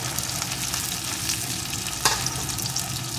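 Chopped tomato and slit green chillies frying with chopped onion in a pan make a loud, continuous sizzle with stirring, and one sharp utensil clink partway through, with no voices.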